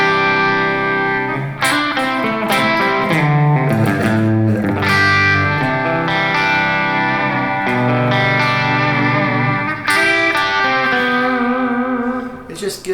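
An electric guitar through a white boost pedal and delay on a Headrush pedalboard rings out with boosted, slightly driven tone and a trailing delay, notes and chords sustaining and echoing.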